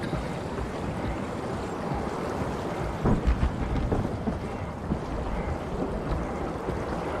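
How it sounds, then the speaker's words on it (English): An underwater storm in SOMA rumbles as a dense, continuous wash of low roaring noise, with faint thunder-like swells and surging water that stay steady throughout. "it's like an underwater storm"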